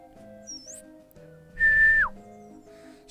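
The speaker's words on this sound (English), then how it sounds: "The clown blows his whistle, slide whistle again as you approach." A clown in a video game blows a slide whistle: a quick rising-falling squeal, then a loud sustained note that slides sharply downward, clear and close over quiet background music.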